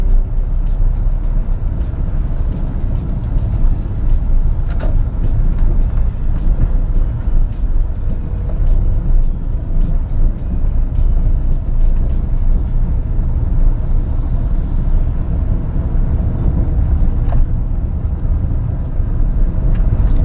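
Steady, loud engine drone from a manual car working on an uphill slope, with a constant low rumble and little change over the twenty seconds.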